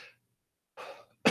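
A person coughs, a brief burst near the start and then two stronger coughs toward the end, fairly close and alone with no talking.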